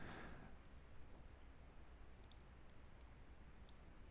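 Faint computer mouse clicks, a handful of short, isolated ticks spaced irregularly over quiet room noise.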